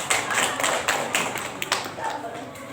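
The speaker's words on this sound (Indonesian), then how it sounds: "Ayo langsung tepuk tangan ya" Children in a primary-school classroom clap their hands together in a quick, uneven burst of close, sharp claps, with voices mixed in.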